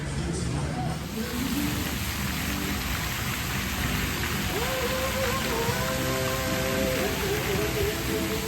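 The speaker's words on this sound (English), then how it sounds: "The rain just ended up getting worse." Heavy rain pouring at an amusement park, a dense continuous roar of falling water with faint tonal sounds from the park rising in the background.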